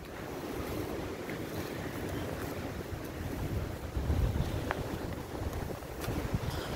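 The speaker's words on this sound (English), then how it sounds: "I'm out with the dogs now and it is so windy" Strong gale-force wind buffets the microphone with a continuous roaring rumble, gusting louder midway, with no voices, on a cold day.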